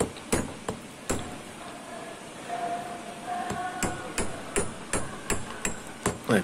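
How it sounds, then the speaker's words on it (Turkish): Hammer striking a steel anchor bolt capped with an extra nut to protect its threads, sharp metallic blows in an uneven series, some close together, then steadier, ringing hits near the end. "çakma işlemini gerçekleştiriyoruz."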